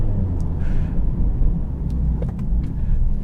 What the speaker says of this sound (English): 2nd gear is where you get the biggest pops.